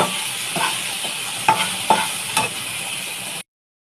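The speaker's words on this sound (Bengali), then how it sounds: "পুরোটাই উচ্ছেটা ভেজে নিয়ে এই যে লাল লাল করে উচ্ছে ভাজা" Slices of bitter gourd (uchhe) fry in a pan with a steady close sizzle, broken by several sharp scrapes and clatters as a spatula stirs them, before the sound cuts off abruptly.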